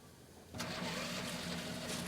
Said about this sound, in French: Le générateur recommence à fonctionner.